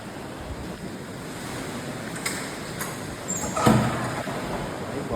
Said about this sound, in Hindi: भाई बहुत गंदी बारिश हो रही है यहाँ